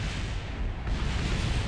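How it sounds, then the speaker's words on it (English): Spacecraft crashing into the ground at about 300 miles an hour in Kerbal Space Program, a dense, loud, rumbling game explosion filling the short moment with low boom and broadband roar, no talk. "Should be a good explosion."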